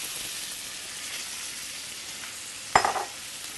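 Browned butter sizzling steadily in a 10-inch nonstick skillet, with a sharp burst of hissing and crackle as a pound of baby carrots hits the pan near the end.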